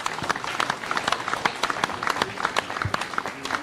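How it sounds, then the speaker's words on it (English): Audience applause at a national dialogue event, a lively burst of many hands clapping in quick irregular claps, moderately loud and close, with no talk over it. "Can we give them a big round of applause?"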